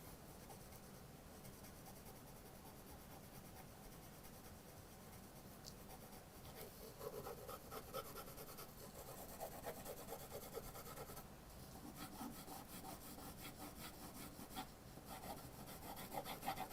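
Faint, continuous scratchy rubbing of a pencil shading on paper while a portrait's chin is drawn, the strokes growing slightly denser and louder in the second half, with no voices.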